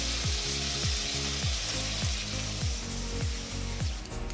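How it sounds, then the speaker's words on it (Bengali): Water poured into a pan of fried spices and melted tomato sets off a loud, steady sizzle, with a repeating low rhythmic churn under the bubbling; no one speaks. "এবারে আমরা এতে জল দিয়ে দিব পরিমাণ মতো"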